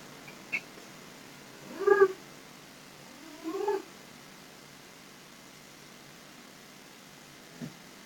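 A cat gives two drawn-out meows a couple of seconds apart, moderately close, over a steady background hiss, with a few faint clicks before and after.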